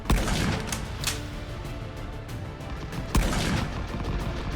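Enemy soldiers' rifle fire in the trench warfare battle game Rising Front, a dense, steady din of distant shots with a few sharper nearby cracks, under constant battlefield noise.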